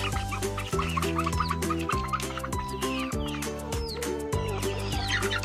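Rhode Island Red and Hobart chickens cluck repeatedly at close range on a free-range farm, with bursts of clucking and some higher calls running steadily throughout.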